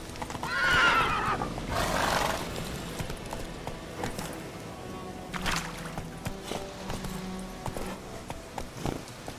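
A horse in The Witcher video game neighs with a loud, shrill whinny at the start, then clip-clops along at a steady pace. Scattered footfalls and thuds follow at moderate volume.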